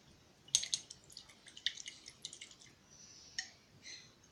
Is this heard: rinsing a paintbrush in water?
yes